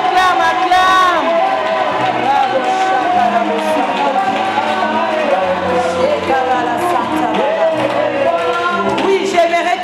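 A church congregation cheers, sings and applauds in praise, a dense, loud, continuous crowd sound filling the whole stretch with overlapping voices.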